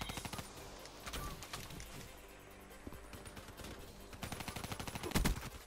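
Rapid automatic gunfire from a player's weapon in a shooter video game, with dense close bursts at the start, a brief lull, then more loud volleys near the end and no voices.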